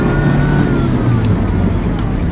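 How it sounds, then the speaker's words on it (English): A car's engine drones loudly and steadily from inside the cabin while driving fast, a low sustained rumble with some road noise and no clear pauses. "Y'all, if y'all just heard my car, you would know. I was just going fast as fuck."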